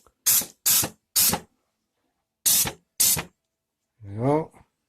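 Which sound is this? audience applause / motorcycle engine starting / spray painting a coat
spray painting a coat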